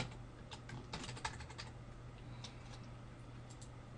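Java code being typed on a computer keyboard, with quiet, close key clicks in irregular bursts over a low steady hum, with no voice.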